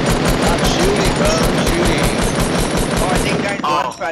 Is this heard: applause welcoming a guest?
no